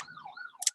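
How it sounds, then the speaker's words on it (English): An ambulance siren wails in a faint, wavering tone that rises and falls, heard from a distance through a quiet room and ending in a brief bright noise, with no talking. "there's an ambulance."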